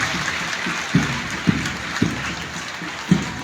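Applause greets a police platoon marching at an Independence Day parade in a stadium, a broad wash of distant crowd clapping with several dull, evenly spaced thuds, like marching steps, punctuating it.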